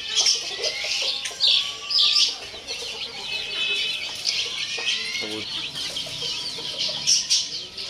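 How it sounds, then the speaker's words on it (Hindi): Chicks and domestic hens clucking and cheeping together in a coop, a steady mix of high peeps and short clucks close by, with some voices talking faintly in the background. "वही चूजे जो बीमार हो गए थे, हमने नीचे जाके की थोड़ी सी ट्रीटमेंट की है, केयर की है, तो ये ठीक हो गए हैं।"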